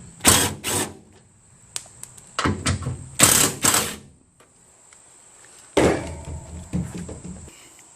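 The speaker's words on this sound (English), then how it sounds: "That impact driver, man. It's awesome." An impact driver removes a ladder roof rack from a Ford E350 Super Duty cargo van, firing in several short, loud rattling bursts with a high motor whine, separated by quiet pauses and a few small clanks.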